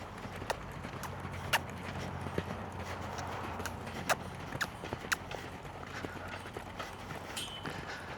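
A horse lopes around an arena, its hooves beating a steady clip-clop rhythm that sounds moderately close over a soft ambient background, with occasional sharper hoof strikes.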